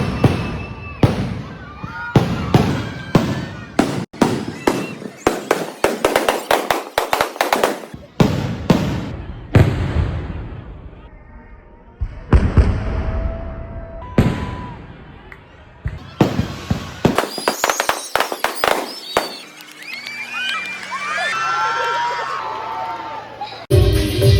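Fireworks at an evening stage event crack and boom in rapid volleys and scattered single bangs, loud and close, with whistling bursts and a crowd murmuring underneath.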